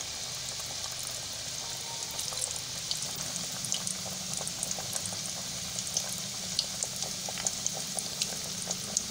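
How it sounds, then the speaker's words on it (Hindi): Potato fingers frying in hot oil in a wok, a steady close bubbling sizzle with scattered pops and crackles throughout, no talking. "इसे तकरीबन 2 मिनट हम फ्राई करेंगे"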